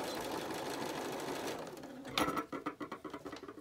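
A sewing machine runs steadily while stitching a pleated fabric face mask, a soft continuous whir that gives way to a few short, uneven bursts of stitching near the end.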